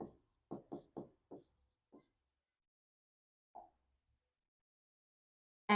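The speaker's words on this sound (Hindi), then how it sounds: "हम इसको हम ऐसे लिखते हैं" Marker or chalk writing on a board during a maths lesson, a quick run of short scratchy strokes followed by a pause and one more stroke, fairly close and alone.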